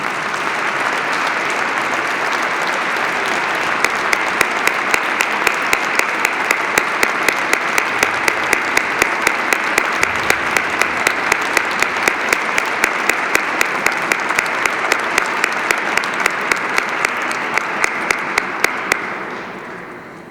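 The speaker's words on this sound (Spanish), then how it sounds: "Un aplauso para ellos." A hall audience at a Holy Week proclamation event in Callosa de Segura claps in long, sustained applause that settles into a rhythmic, unified beat of sharp claps before fading out near the end.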